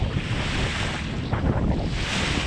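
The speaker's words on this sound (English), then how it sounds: "Seas are pretty small, mostly like wind waves." Small wind-driven waves at sea wash and slosh around a sailing boat in a light breeze, along with steady wind buffeting the microphone, heard close and continuous.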